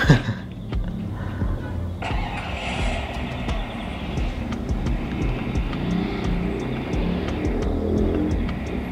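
Car driving in the mobile shooter game Free Fire, played on a budget gaming phone: a steady engine drone with revving runs throughout, fairly loud, with no one talking.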